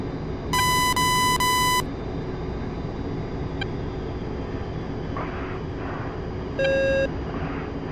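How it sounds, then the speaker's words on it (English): A warning tone sounds inside the A-10C cockpit in the DCS combat flight game, a loud steady electronic beep held for over a second, then a shorter beep later, over a constant low engine hum. "Beep."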